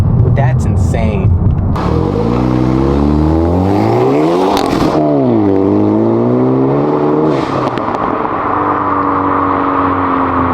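A 2024 Hyundai Elantra N fitted with an aftermarket intake and blow-off valve revs loudly and up close, the engine note rising and falling in long sweeps with a whoosh near the midpoint, while a person talks over it.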